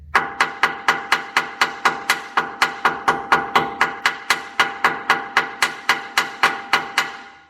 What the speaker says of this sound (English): So what we're going to do is just do the hammer test right here.